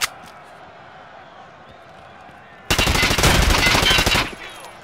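Gunfire in a ranked arena shooter game, a sudden loud close burst of rapid automatic shots lasting over a second after a quiet stretch, then falling away.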